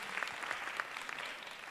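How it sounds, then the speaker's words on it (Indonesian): Audience applause at an inspirational talk during a university open house at Sabuga ITB, a soft, steady patter of many hands with a few sharper claps standing out, heard at a distance. "tepuk tangan sekali lagi untuk teman-teman semua"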